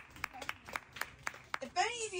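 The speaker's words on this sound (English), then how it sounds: "Let's give a round of applause to Scott, to George, to Denny to do this wonderful event." A small audience claps for the event organisers, a scattered run of individual hand claps with a brief cheer or voice at the end.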